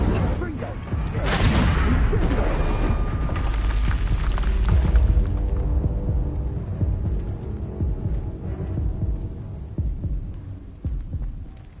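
Fiery spell blasts in Hogwarts Legacy, a long rumbling roar of booming, throbbing impacts that swells early and slowly fades. Voices are heard over the blasts.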